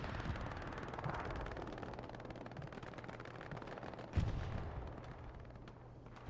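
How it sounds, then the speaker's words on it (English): Axis artillery fire in the online war game Hell Let Loose: a continuous rumble of distant battlefield gunfire, broken by one sharp, loud boom near the end, with no talking. "Axis artillery is currently firing there."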